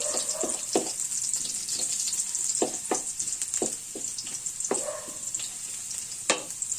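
Garlic and ginger sauté in a pan for salmon sinigang sa miso, a steady soft sizzle broken by scattered crackles and pops, close and alone with no talk.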